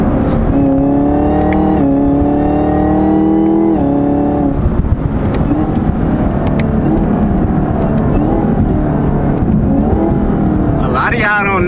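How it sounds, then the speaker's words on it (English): A car engine roars close up, its pitch climbing and then dropping in steps as it downshifts to fourth gear using paddle shifters, with road noise beneath and a voice talking. "we're gonna downshift to fourth one more time"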